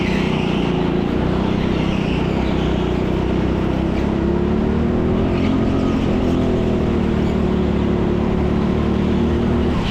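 A go-kart engine drones steadily on a public-session indoor track at TeamSport Leicester, a continuous loud buzzing whine that rises and falls slightly as the kart races, with no voices.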